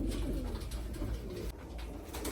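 A pair of young ispir pigeons coo close by, soft low rolling calls over a steady background hum, short and continuous without talk.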